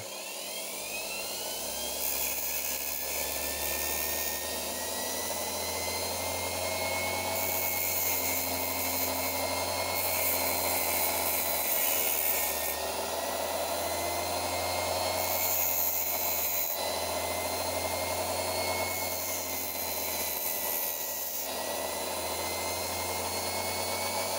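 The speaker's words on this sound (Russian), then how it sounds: "заточить сверлышко, например, одно, второе, там" A steady, loud mechanical whine with a high-pitched grinding hiss that rises and eases in bursts, as a DEXTER power bench grinder sharpens a metal drill bit, continuous and close.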